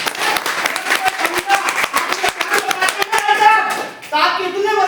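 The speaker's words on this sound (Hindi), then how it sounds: "बजाओ ताली" An audience at a gathering claps in a scattered, fairly close burst with sharp individual hand strikes, while voices talk over and after the clapping.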